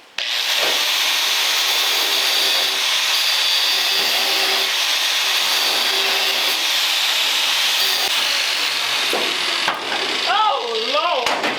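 An angle grinder's cutting wheel slices through the steel bedside of a C10 pickup truck: a loud, steady, high-pitched whine and rasp held for several seconds, close by, with voices briefly heard near the end.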